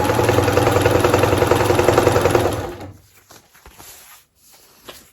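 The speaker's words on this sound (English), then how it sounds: "I'm just going to zigzag right along, sewing these pieces together" A sewing machine runs steadily in a zigzag stitch, joining two pieces of fabric, loud and continuous for over two seconds before it stops, followed by faint handling noises.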